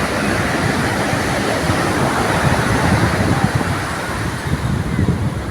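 Large waves break and churn on the shore at Puri at night, a loud, steady rumbling wash that rolls on continuously with slight surges in intensity.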